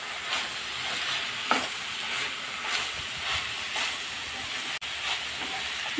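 Rice for chicken keema biryani sizzles and fries in a pot while being stirred, a steady close hiss with soft scraping strokes and a brief clunk near the end, no voices.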